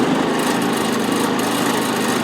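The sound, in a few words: Powerhorse 3500 generator running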